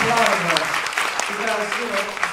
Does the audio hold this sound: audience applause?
yes